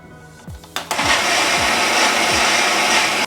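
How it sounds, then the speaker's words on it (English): A blender whirring through hot Indian chutney. A few clicks and knocks come first, then the motor kicks in loud and close and holds a steady, roaring whir to the end. "So let's turn on the blender."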